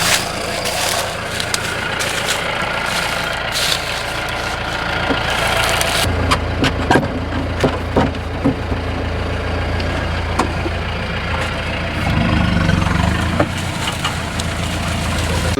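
A tractor engine runs steadily while lifting a plow out of the ground, a continuous mid-pitched engine drone with some clanks and knocks, rising in load near the end.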